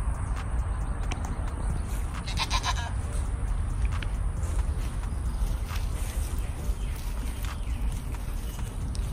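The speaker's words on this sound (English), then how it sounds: "feel like that black goat is saying uh-uh." Goats bleat intermittently outdoors on a farm amid steady rustling and hoof movement, fairly faint with continuous background noise.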